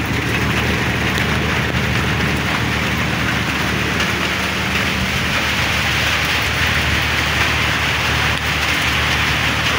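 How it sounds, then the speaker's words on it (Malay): Steady, heavy rain pours down continuously over a fishing raft at night, a dense, unbroken hiss with no voices. "Hujan guys. Hujan dari malam tadi."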